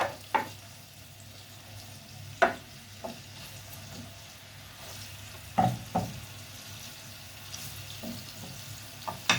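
Seasoned, floured fish fries in oil in a pan, a low steady sizzle broken by several sharp clicks and clatters of cookware at irregular intervals.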